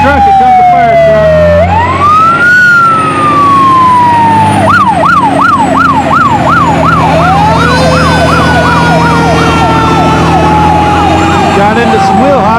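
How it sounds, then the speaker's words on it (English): A fire truck's siren sounds loud and close at a tractor-pulling event. It opens with a rising and falling wail, then switches to a rapid yelp, with a lower engine drone underneath. "here comes the fire truck"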